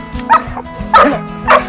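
A dog barks outdoors at a campsite during a multi-day survival trip. It gives three sharp, close bow-wow barks spaced evenly over under two seconds, with quiet gaps between them.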